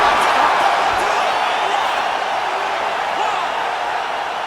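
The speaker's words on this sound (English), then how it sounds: "Crowd loving it" A UFC 5 video game arena crowd cheering after a fight-ending strike, a broad, steady roar of spectators that stays loud throughout and fades only slightly.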